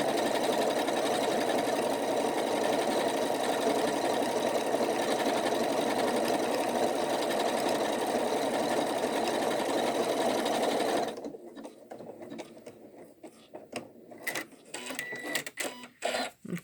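A Janome Skyline S7 sewing machine stitches lettering in a fast, continuous mechanical whir for about eleven seconds, then stops, leaving scattered clicks and handling taps nearby.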